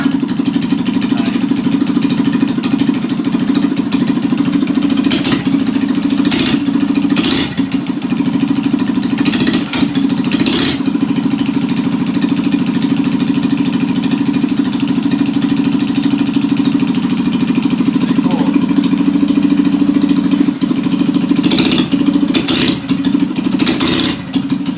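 A Reaper mini chopper minibike's small engine runs steadily and loud close by for the whole stretch, a constant low drone with a few sharp bursts that sound like revs or throttle blips, and nobody talks.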